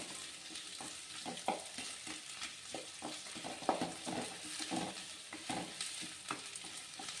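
Onions sautéing in a pan for Chettinad fish curry, a steady soft sizzle with repeated scrapes and stirring strokes at an even rhythm, close and fairly quiet, with no talking.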